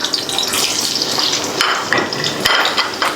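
Sliced onions sautéing in a pan, with steady broadband crackle and scraping stir sounds throughout, occasional sharper clinks of utensil on the pan, moderately loud and close, no voices.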